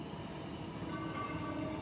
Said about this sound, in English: we have Central Bound Waratah arriving on platform number 1